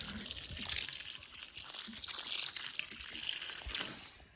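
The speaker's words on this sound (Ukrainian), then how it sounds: "отак придавлюємо і знову ж таки наливаємо, наливаємо водички" Water is poured into the planting hole around a newly planted rose, a faint close trickling and splashing that rises and falls.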